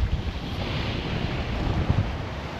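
Strong wind at sea roars steadily across a sailboat, a dense broadband rush with gusty swells in loudness and buffeting against the microphone, in cold weather with no voices.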